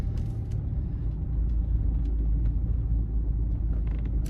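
A BMW 320d M Sport rolls over a speed bump, heard from inside as a steady, deep road and engine rumble with a few faint ticks and no sharp knocks.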